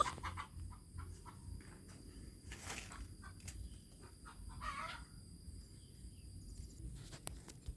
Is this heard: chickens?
yes